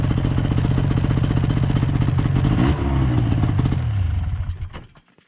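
Yamaha VK 540 two-stroke snowmobile engine running close and loud with a rapid buzzing, crackling beat, the pitch dipping briefly midway before the engine winds down and dies away at the end.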